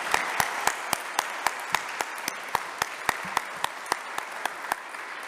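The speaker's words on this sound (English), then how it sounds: "Let's give them a huge round of applause." Audience applauding a jazz band at a church jazz vespers service. Distinct, evenly spaced sharp claps ring out over a soft background wash, sounding like one or a few nearby hands clapping in a steady rhythm.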